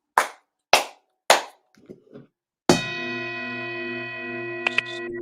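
Three sharp, loud hand claps at an even pace, standing alone in a quiet room, followed by faint rustling and then a sustained ringing bell-like tone.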